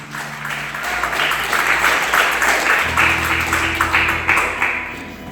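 A church congregation claps loudly for Jesus, steady rhythmic clapping mixed with some cheering, with an organ or keyboard chord sustained underneath.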